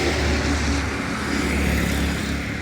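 Triumph Speed 400 motorcycle engine running nearby, a loud steady low rumble with a slight swell in revs over constant road and wind noise, with no voices.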